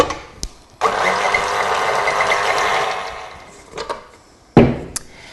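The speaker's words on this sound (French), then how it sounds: "Pour ma part, je préfère pétrir au robot, c'est moins long et surtout moins fatigant." Stand mixer kneading pizza dough, a loud, close mechanical whirring that runs steadily for about two and a half seconds before cutting off. Clunks and knocks come before it and after it, with no talk.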